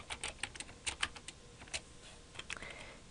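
Faint, close clicks of typing code on a computer keyboard, scattered keystrokes in short irregular bursts over quiet room tone.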